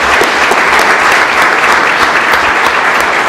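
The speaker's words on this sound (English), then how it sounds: "So one more round of applause for Mr." Loud, dense applause from a large audience at a school board meeting, a continuous wash of many hands clapping close by for the full stretch.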